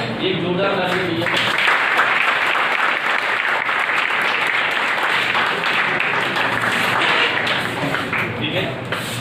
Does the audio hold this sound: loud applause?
yes